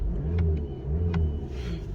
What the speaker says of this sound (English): Give it a little rev for you.